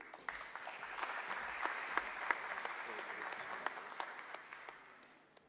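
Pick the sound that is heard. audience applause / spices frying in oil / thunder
audience applause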